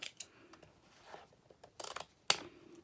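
Scissors snip through a paper bag album page to cut out a small notch, with a few quiet scratchy cuts followed by one sharp, crisp snip near the end.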